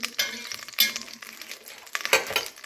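Butter and oil sizzle in a hot pot, a crackling frying hiss broken by a few sharp clinks and stirring scrapes of a utensil against the pot, close and clear.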